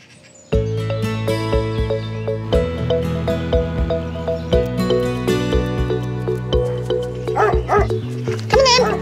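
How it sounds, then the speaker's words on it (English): Four dogs barking close by, a rapid run of loud overlapping barks and yips that starts abruptly and carries on throughout, with a few higher yelps near the end. "One of Scott's nurses, Sam, is enjoying a day off with her four dogs."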